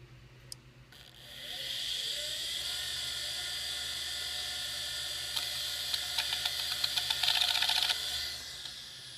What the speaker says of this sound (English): It seemed to spin up a-okay.